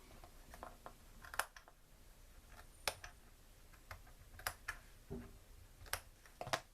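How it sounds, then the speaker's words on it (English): Scissors snip the edges of a fabric face mask, giving faint, sharp clicks spaced irregularly over several seconds in a quiet room. "let's go ahead and snip my little edges here"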